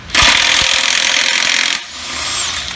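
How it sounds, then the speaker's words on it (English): A tool fitted with a 24mm socket busts loose the crank pulley bolt on a GM LS V8 with one loud, sustained rattling burst lasting under two seconds, then a quieter lingering whir. "We've got a 24mm socket. Let's see if we can bust this bolt off."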